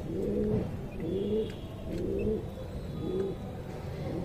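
Pigeons in a loft give soft, low, repeated coos in a steady rhythm of about four calls, close and moderately loud, with no voices.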